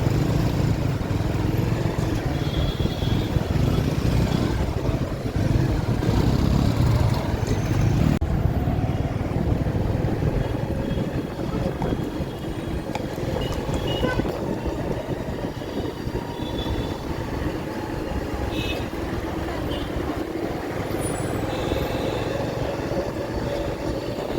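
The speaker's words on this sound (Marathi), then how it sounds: "थोडं ट्रॅफिक आहे विचारूच नका ट्रॅफिक" Dense road traffic near Five Gardens in Dadar, Mumbai, a continuous loud rumble of engines and passing vehicles with faint horns and clatter above it, no voices.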